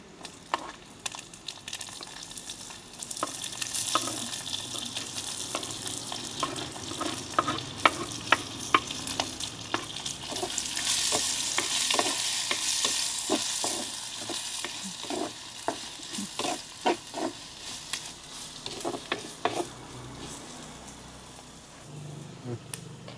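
Onions and green chillies fry in oil alongside anchovies, giving a steady crackling sizzle broken by repeated scraping stir strokes throughout, with a brief louder burst of sizzle midway.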